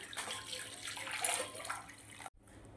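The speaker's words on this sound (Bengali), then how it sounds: "চিনির সিরাপ হয়ে গেছে। দেখুন আমি বাটিটায় ঢেলে দিচ্ছি।" Sugar syrup pours into a bowl in one smooth, continuous liquid stream lasting a couple of seconds before stopping abruptly, close and moderately soft.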